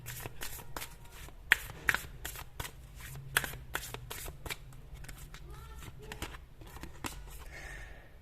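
Tarot cards are shuffled close up in a steady run of crisp riffling snaps and soft slides, a few sharper flicks standing out over a faint low hum.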